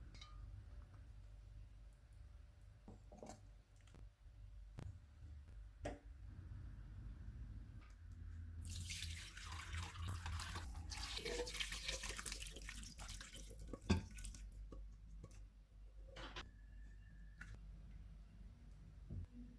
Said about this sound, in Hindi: मटन के पीसेस निकाल लेते हैं और यखनी को छान लेते हैं